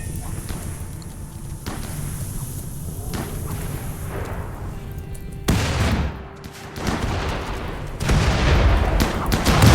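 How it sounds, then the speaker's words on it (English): Several explosions from EMP grenades in a RimWorld base raid, heavy booming bursts at intervals over a steady background of game noise, with louder blasts toward the end. "they had EMP grenades"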